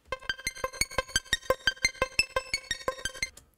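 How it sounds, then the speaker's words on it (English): A synth bass from Vital pulses through slow square-wave autopan modulation, sounding as a quiet run of evenly spaced rhythmic plucked notes, about five per second, each with a bright harmonic tone, alone without voices. "So basically it's a square wave autopan modulation,"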